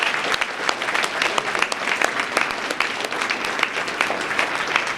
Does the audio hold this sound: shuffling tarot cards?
no